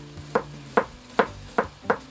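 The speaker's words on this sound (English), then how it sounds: "Okay, chop your onions fine." Onions being finely chopped with a knife on a board for an apple curry: five crisp, evenly spaced chops ring out close and clear, with no talking.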